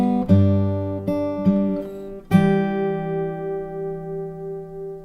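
An acoustic guitar is fingerpicked with thumb, middle and ring fingers, playing the opening chords of a song: a few plucked notes in steady rhythm, then a chord left ringing and fading, close and clear with no talking.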